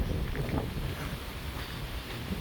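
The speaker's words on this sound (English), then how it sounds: "It's not as windy as yesterday, but it's still windy." Strong wind buffets and roars across the microphone continuously outdoors in open fields, a loud, rumbling gusty rush with no voices.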